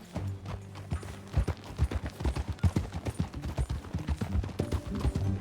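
Horses ridden in the Red Dead Redemption 2 video game, with quick rhythmic hoof clip-clops pounding along under a steady game soundtrack, no voices.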